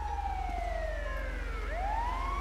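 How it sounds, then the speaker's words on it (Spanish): An ambulance siren wails in a GTA 5 game, its tone sweeping down and then rising again, loud and close over a constant low engine drone. "Creo que ahí viene la ambulancia."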